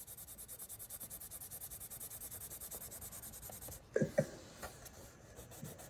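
Rhythmic scratching of a pencil shading back and forth on paper, close and quiet, followed by a few light taps and scrapes.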